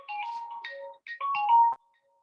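A phone ringtone plays during an online meeting, a short melodic electronic tune of bright tones in two phrases with a brief gap, then stopping.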